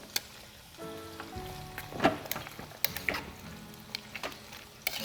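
Dried roasted spices, cumin among them, are stirred into a slow-cooked lamb shank dish, giving soft scraping and scattered clicks of the spoon over a faint sizzle, quiet and close, with no speech.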